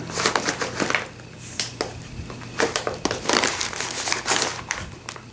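Tiffany gift bags being handled and rustled, crisp crinkling bursts coming in uneven clusters close by, with no talking.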